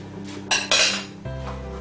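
Chopped carrot and celery tipped into a pan for a vegan lentil loaf, two quick bursts of clattering vegetable and pan contact in close succession, with a faint hum behind and no talking.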